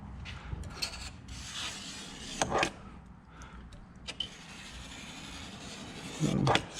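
A razor scrapes window tint residue off car glass in repeated short, raspy strokes at close range, with quiet gaps between passes and a brief louder scrape near the end.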